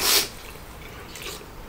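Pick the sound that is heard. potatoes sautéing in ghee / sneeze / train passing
sneeze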